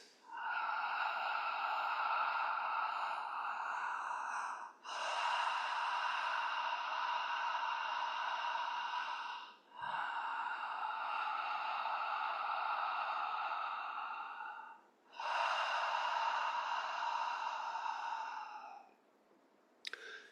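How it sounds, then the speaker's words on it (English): Breathwork breathing in a continuous wave-like pattern comes as four long, loud, close breaths of about five seconds each. Each one flows into the next with only brief dips between them and no pause at the top or bottom. "one wave-like continuous breath, not stopping at the bottom or the top"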